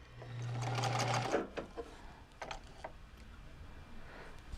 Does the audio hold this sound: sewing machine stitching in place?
yes